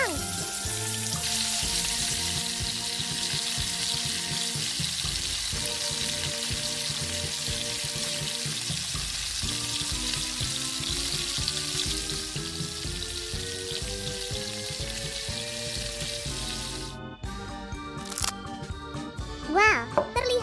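Octopus frying in oil over medium heat, a steady dense sizzle and crackle running throughout, with clinks and louder spattering bursts near the end.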